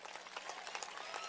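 A graduation audience clapping, a faint, dense patter of many hands that stays fairly even throughout the short stretch.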